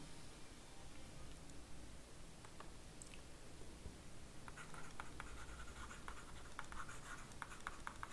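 Marker or chalk writing a maths formula on a board in a classroom, producing faint scratchy strokes and taps over a steady hiss, with the strokes coming more often in the second half.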